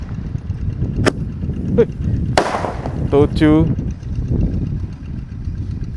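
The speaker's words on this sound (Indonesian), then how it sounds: "Menyalakan banyak sekali mercon dan petasan spesial ngabuburit hari pertama Ramadan 2026" Firecrackers and petasan set off outdoors at dusk on the first day of Ramadan: a few sharp cracking bangs, then rising whistling shots, all over background rumble and nearby voices.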